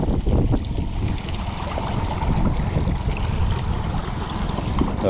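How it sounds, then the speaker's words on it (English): An outboard motor on a fishing boat runs steadily at low revs, a rough, broadband hum mixed with wind buffeting and water noise, close and continuous throughout. "Might try with the outboard."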